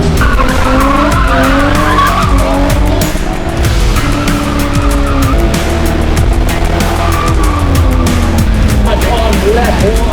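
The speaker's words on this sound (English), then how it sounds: "The racing was officially underway." Race cars on a circuit skid and squeal their tires, loud and continuous wavering screeches over roaring engines, with a voice speaking briefly beneath the din.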